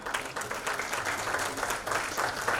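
Audience at a formal award ceremony for nursing and paramedical institutes applauding a bouquet welcome, a short burst of even, fairly close clapping.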